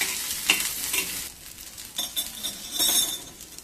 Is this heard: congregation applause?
no